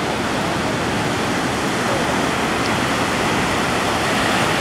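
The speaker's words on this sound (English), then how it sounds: "So the girls can't go very far because the waves are just way too big." Big ocean waves crashing onto a beach where surfers ride, a steady loud roar of surf and churning water filling the whole stretch with no pauses.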